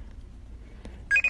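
A quiet line gives way to a couple of short, bright telephone dialing tones near the end, close and clear in quick succession.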